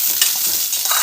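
Small onions frying in oil for fish curry make a loud, close, bright sizzle with crackling pops, continuous over about a second and stirred briefly, with no speech.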